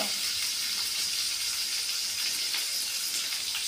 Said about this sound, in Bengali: এই দেখো মাছ ফ্রাই হচ্ছে